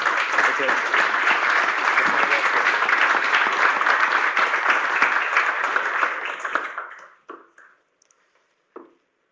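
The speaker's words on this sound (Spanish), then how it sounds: "¿por qué no le agradecemos con un aplauso cariñoso?" A webinar audience applauds steadily and loudly for several seconds, then the clapping thins out and fades to a few last scattered claps.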